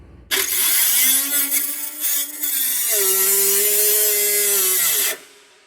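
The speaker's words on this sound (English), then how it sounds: "I will demonstrate for you the power of it, and we'll put a lot of force on this cut and continue on with this cut." A Craftsman 3-inch cut-off tool cuts under heavy force, starting with a sharp whine that holds loud and steady for about five seconds, its pitch dipping as the load increases, then cutting off abruptly.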